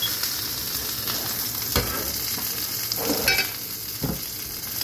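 Sausages frying in oil in a pan give a steady, close sizzle with crackles and a few louder pops and spits scattered through, with no voices.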